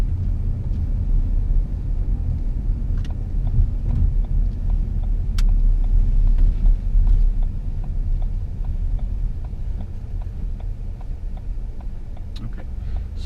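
A car turns right during a driving lesson, giving a steady close engine and road rumble with a regular ticking indicator running throughout, while an instructor talks over it.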